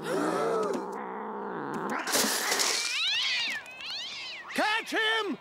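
A cartoon cat meows and caterwauls in loud, close, drawn-out wails, ending with two sharp, rising yowls over a busy background of music and effects.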